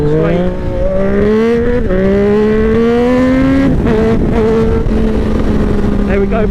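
A Triumph 765RS motorcycle with an SC Project exhaust and quickshifter accelerates hard in sports mode, engine pitch climbing through gear changes, loud and close throughout.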